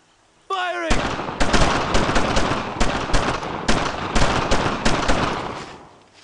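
Gunfire in Brothers in Arms: Road to Hill 30, a WWII battle scene: a rapid series of loud, close rifle and machine-gun shots in irregular bursts, with battlefield chatter underneath, ending abruptly.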